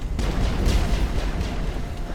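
Explosions in the Mass Effect video game, a dense, loud rumble of booming blasts rolling continuously with several overlapping bursts and no voices.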